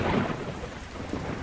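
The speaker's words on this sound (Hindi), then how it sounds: "वहाँ बारिश स्टार्ट हो जाती है।" Heavy rain sets in with rolling thunder, a dense hiss of drops striking surfaces under a low rumble, steady throughout with no one speaking.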